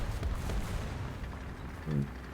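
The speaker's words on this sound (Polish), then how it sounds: "Eksplozja mi zasłoniła." Explosions and gunfire in the War Thunder video game during a naval battle: a dense, continuous wall of low booms and rumbling blasts, with a heavier thud near the end.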